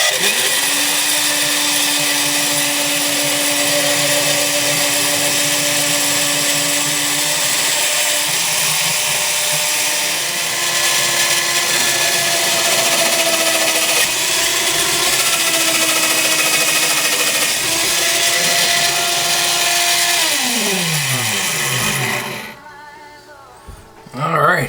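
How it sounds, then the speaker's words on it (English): Power drill boring a hole through a mash tun vessel, a loud steady whine running continuously for about twenty seconds with its pitch sagging near the end before cutting out, followed by brief clattering. "so let's drill a hole."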